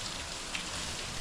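Heavy rain pours steadily on surfaces during a downpour, a dense, even hiss with no pauses and no voices over it.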